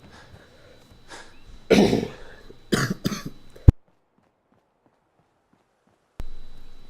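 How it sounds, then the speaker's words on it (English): A person coughs and clears their throat several times in quick harsh bursts, close and loud, followed by a sharp click and a stretch of silence. "my cough is not getting better"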